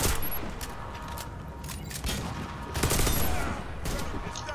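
Rapid bursts of gunfire crackle through a video game match on the Pripyat map, dense and loud, with overlapping shots and brief pauses between volleys.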